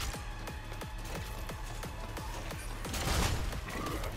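Rapid gunfire rings out in the video game Stellar Blade, a steady string of evenly spaced shots that thickens into a louder, denser burst near the end, loud and close with no talk over it.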